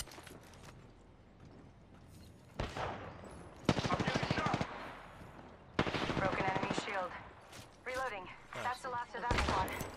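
Gunfire from an Apex Legends match in bursts of rapid, loud automatic shots separated by short pauses, with a player's voice talking over the action.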